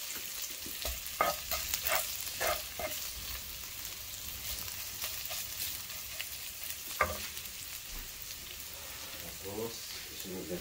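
Ginger frying in a pan for chicken adobo in tomato, a steady broadband sizzle with scattered spatters and a few louder stirring knocks throughout.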